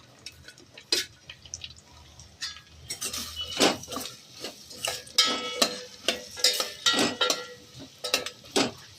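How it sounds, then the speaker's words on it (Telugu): Vegetables for pulao go into a pan and are fried and stirred, with close, irregular clinks and scrapes of a spoon against the pan and soft moist crackles between them. "ఇప్పుడు ఇవన్నీ నేను వెజిటబుల్స్ అన్నీ ఇందులో వేసి మనము వీటిని కూడా ఒకసారి ఫ్రై చేసుకోవాలి"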